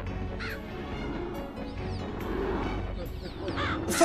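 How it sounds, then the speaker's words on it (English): Crows caw repeatedly in bursts from the MediEvil PS1 video game, layered over a dense game soundtrack and effects, with someone talking at moments. "Oh, bird."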